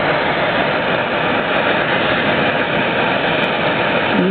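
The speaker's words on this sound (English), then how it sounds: "the noisiest part of the thing is the burner" Burner of a Robinson hot air engine running close by, a steady loud roaring hiss that holds even and unbroken throughout, with no speech.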